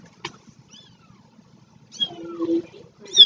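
Two-week-old kittens give a few small, high meows, one brief cry early and a cluster of mewing near the end, with quiet rustling in between.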